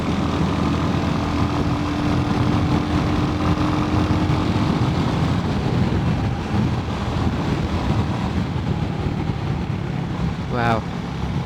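A Royal Enfield Hunter 350 motorcycle rumbles steadily and loudly under rushing wind on a sunny ride. A voice talks over the engine, which keeps up a constant drone throughout.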